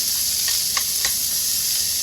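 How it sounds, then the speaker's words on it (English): Food sizzling steadily in a frying pan over a propane flame, a dense continuous hiss with a few faint stirring clicks, close and loud with no talking. "It cooks really quick in this propane frying pan"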